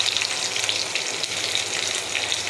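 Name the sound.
onion, garlic and green chili frying in oil in a wok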